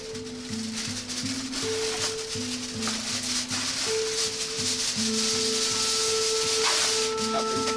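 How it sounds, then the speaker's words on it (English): Aluminum foil crinkles and rubs in steady rustling bursts while food is wrapped for late-summer grilling, close and continuous, with a faint tonal hum underneath. "Now I will just take some aluminum foil and wrap it"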